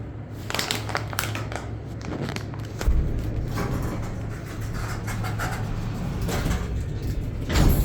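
The door of a 2020 Abell hydraulic elevator at a Menards store in Normal, Illinois slides open with a steady low rumble and a few clunks, close and fairly loud, under a constant hum.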